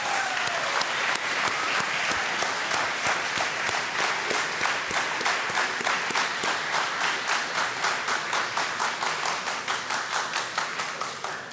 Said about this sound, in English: a warm applause for all of them